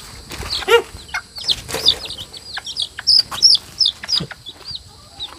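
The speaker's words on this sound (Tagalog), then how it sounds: "Manok ni Tatay Ronnie." Chickens cluck and squawk close by in short, irregular calls, with a rooster-like cry and some wing flapping, no talk.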